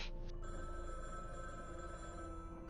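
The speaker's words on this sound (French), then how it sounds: "Anderson, Robertson, ton téléphone sonne" A telephone rings with a continuous electronic bell tone, steady and fairly faint, running throughout without talk during a tabletop role-playing session of Delta Green.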